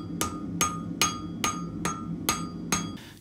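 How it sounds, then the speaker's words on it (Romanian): A hammer striking a chisel against a metal tin can, seven sharp evenly spaced metallic blows about half a second apart, close and ringing, with no talk. "soldații foloseau dalta și ciocanul pentru a le desface"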